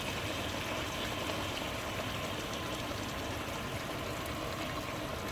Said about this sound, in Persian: آب جوش دارم اضافه میکنم